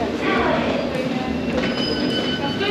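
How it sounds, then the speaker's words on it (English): Rumble and rattle of a London Underground District Line train running through a tunnel, steady and loud, with faint wheel squeals and a muffled voice beneath. "This is a District Line train to Upminster."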